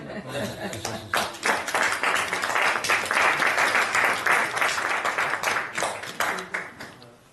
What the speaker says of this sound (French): C'est toi qui dois être le plus applaudi ici aujourd'hui